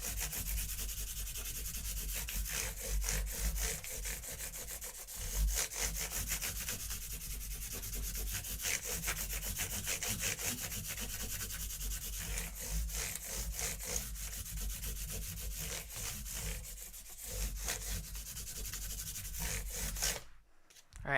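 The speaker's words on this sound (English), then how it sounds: "Make sure that I get them very well sanded and polished out." Guitar frets are sanded in a steady, continuous scrubbing rasp of abrasive on metal and wood. It runs close and loud for about twenty seconds with a slight back-and-forth rhythm and no voices, then stops abruptly.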